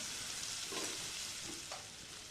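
Chicken pieces fry in hot oil for a shahi chicken korma, a close, even sizzle with brief stirring scrapes and no voices.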